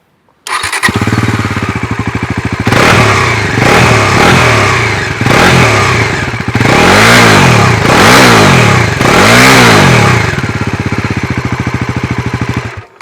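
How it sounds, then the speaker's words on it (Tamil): A Bajaj Pulsar NS400Z motorcycle with an underbelly exhaust starts up close and loud, idling with a throaty exhaust rumble, then revved repeatedly in several rising and falling blips. "அண்ட் இந்த வண்டியோட எக்ஸாஸ்ட் நோட் நீங்கள் கேளுங்க."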